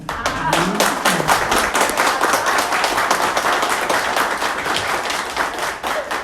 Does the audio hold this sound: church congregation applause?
yes